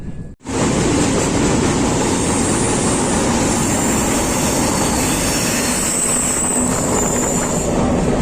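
A passenger train rolls along at speed in a steady loud rumble and rush of wheels on rails, unbroken apart from a brief dip at the very start.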